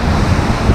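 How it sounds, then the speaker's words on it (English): Ocean waves crash against coastal rocks at Acadia National Park in a steady, dense roar mixed with heavy wind buffeting on the microphone. The sound is close and loud throughout the brief moment. "Look at that water beating on them rocks."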